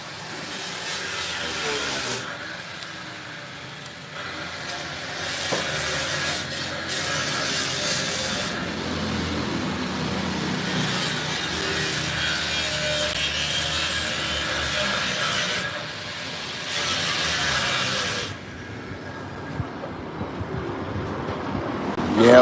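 A power tool saws through wood in a long, steady, raspy grind, pausing briefly several times and cutting off near the end.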